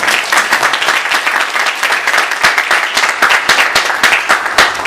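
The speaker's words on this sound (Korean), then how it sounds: "다시 만날 때까지 평안하시라고 우리 박수로 격려해주십니다" A church congregation breaks into steady applause during a Sunday worship service, many hands clapping at once in a dense, even patter that holds for the whole stretch with no voices over it.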